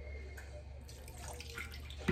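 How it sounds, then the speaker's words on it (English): Water pouring and trickling into a cooking pot in a home kitchen, a faint continuous splash with light dripping, heard close and alone with no voices. "I'm pouring water in here."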